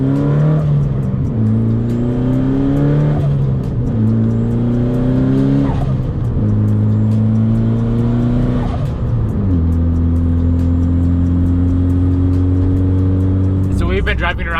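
Mitsubishi Evo 8 on new coilovers driving along, engine loud and close from inside the cabin, rising in pitch through each gear then dropping at the shifts, with a long steady cruise near the end.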